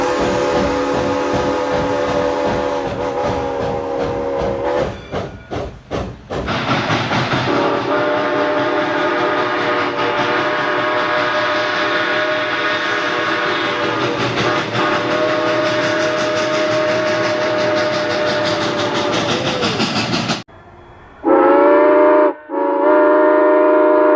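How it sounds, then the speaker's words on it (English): Real steam locomotive whistles, including McCloud River 18 and Pere Marquette 1225, blow in long loud sustained tones with a chuffing rhythm, followed near the end by a few shorter separate whistle blasts. "Now let's hear their whistles in real life."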